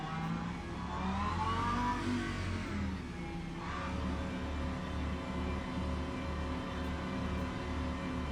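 A Lamborghini GT3 race car in the Le Mans Ultimate racing game at Spa holds a droning engine note that rises through revs and then drops at a gear change, with other cars roaring around it at the race start.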